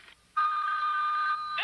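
A Smurf See and Save toy telephone rings with an electronic trill, a brief burst followed by one long, clear sustained ring, heard alone and fairly close.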